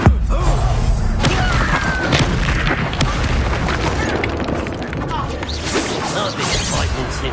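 The Incendio fire spell cast during combat in Hogwarts Legacy, loud booming bursts and whooshes layered with crashes and impacts, voices talking in between the blasts.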